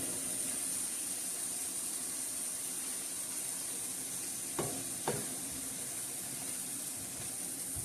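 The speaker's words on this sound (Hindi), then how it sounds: "तो फिर हम इसको डाल के ऑयल, तो हम इसको अच्छी तरह भूनेंगे।" Minced keema frying in oil on a flat tawa, a steady low sizzle throughout with two brief scraping stir strokes near the end, no talk.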